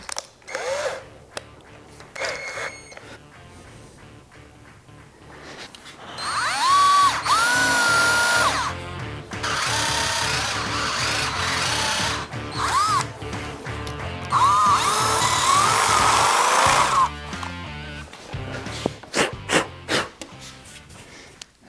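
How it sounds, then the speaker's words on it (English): Power drill boring a hole through a wooden barn door, with long whining bursts of the motor that rise and fall between quieter pauses and handling knocks, close up. "Drill that hole."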